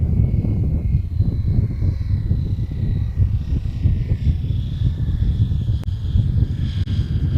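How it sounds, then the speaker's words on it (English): A twin-propeller competition model aircraft comes in to land with the throttle pulled back, a loud, steady low engine drone with a faint high propeller whine, close by and alone. "Gonna bring the plane around in for a landing here. Pilot pulling back the throttle, and of course we can"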